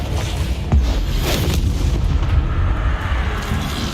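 A Confringo spell blast from Hogwarts Legacy lands as a deep, booming impact with a rumbling tail, joined by a sharper hit and a steady low roar.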